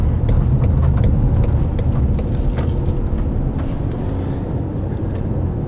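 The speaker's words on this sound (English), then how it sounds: "maybe even a you know, a rev out with the car rolling, just to see how the motor feels on it" A Ford Police Interceptor Utility engine rumbles loudly from inside the rolling vehicle, a steady low drone mixed with road noise and light clicks, easing slightly in level as it goes.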